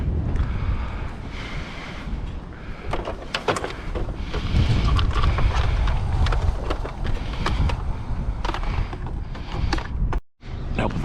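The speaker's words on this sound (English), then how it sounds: "It's windy though. Strong wind." Strong wind buffeting a microphone outdoors during street scrapping, a loud continuous low rumble with gusty bursts and a few sharp knocks, running nearly the whole time.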